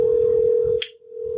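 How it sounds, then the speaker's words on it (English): A telephone tone sounds as one steady, loud pitch that briefly drops away and then returns, with a single short click near the middle of the call being placed. "We're trying to connect with Anna right now"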